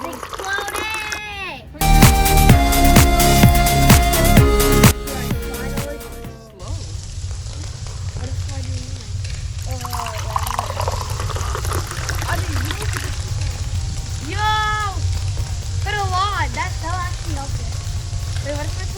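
Vinegar foaming and fizzing over in a homemade colorful volcano eruption, a loud steady frothy hiss that follows a brief burst of clattering, with excited voices talking and exclaiming throughout.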